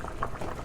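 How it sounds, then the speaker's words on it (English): A pot of cabbage boils on a stovetop, giving a close, steady bubbling and simmering noise that runs the whole short stretch with no talk over it. "that is really good boiling."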